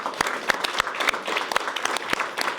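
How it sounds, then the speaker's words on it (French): Audience in a TV studio applauding for a few seconds, a dense patter of clapping at close range with no talk over it. "on peut vous applaudir, justement"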